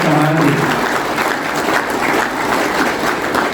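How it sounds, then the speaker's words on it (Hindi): Loud, dense applause from a gathering at a Rajput business group meeting in New Delhi welcoming guests, sustained clapping close by with a voice briefly heard at the start. "मैं जोरदार तालियों से इसी कार्य के लिए स्वागत करवाना चाहता था"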